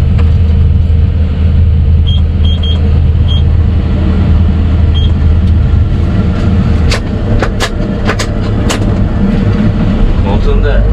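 A dump truck pulls up at an excavation site where an excavator loads trucks, a loud continuous low engine rumble dominating, with sharp clanks and knocks toward the end.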